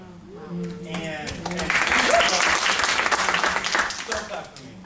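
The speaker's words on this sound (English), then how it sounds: "so clap for me" A panel audience at a talk on systemic trauma claps after a speaker finishes, applause swelling in the middle and holding steady, with a voice speaking over the start.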